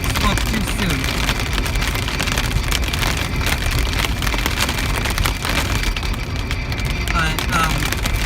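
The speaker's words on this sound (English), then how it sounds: "although here comes the rain" Heavy rain drums steadily on a car during a thunderstorm while driving, a dense, constant, close hiss and patter with no break.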